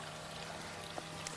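Water pours steadily into fountains, a faint continuous hiss and trickle with no voices.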